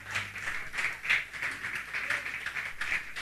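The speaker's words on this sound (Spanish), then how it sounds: "Dele un aplauso al Señor." A church congregation claps together in quick, irregular bursts of applause during a Spanish-language Sunday service, with scattered voices faintly underneath.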